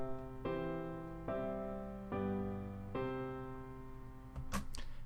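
A cadential six-four chord progression on a keyboard: four sustained chords ring out one after another, each struck cleanly and left to decay, followed by a couple of brief bright noises.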